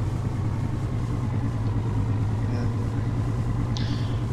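A steady, low ship engine drone from the Fishing Barents Sea game, from a crab-fishing vessel working at sea, runs continuously and evenly throughout with faint higher tones above it and no talking.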